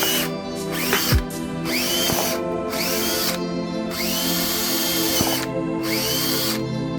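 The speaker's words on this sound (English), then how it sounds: "we're gonna drill these 3 first and then we're gonna see about the rest" A power drill whines loudly and steadily, its pitch rising and falling as it bites through material in several drilling bursts with short pauses, drilling holes to fit a front splitter on a BMW F10 535i.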